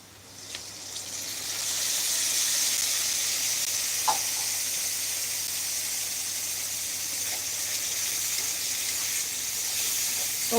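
Tomato paste fries in a pan with a steady, close sizzle and hiss that holds evenly for about ten seconds, with a few faint clicks and no talking.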